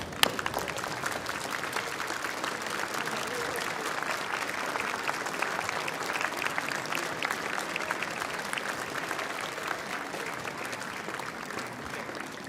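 A graduation ceremony audience applauds its supporters, a dense, steady wave of clapping from a large crowd in a hall that holds even for the whole stretch with no pause or break.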